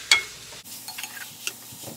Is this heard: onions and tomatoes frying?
yes